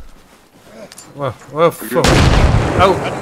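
A grenade explodes in the military shooter Arma Reforger, a sudden loud boom with a broad crashing roar right after voices shout in the lead-up.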